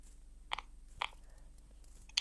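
A puppy in a kitchen eats scraps noisily, with a few separate wet, crunchy chewing bursts spaced about half a second apart. The sound is close and fairly quiet, with no talking.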